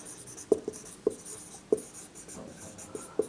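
Chalk taps and scrapes on a classroom board as a physics formula for Pascal's law is written out, a string of quiet, close strokes in an uneven rhythm.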